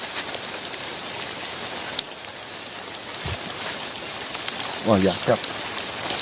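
Steady rain falls on surfaces outdoors, a dense even hiss of drops that continues throughout, with a brief spoken exclamation near the end.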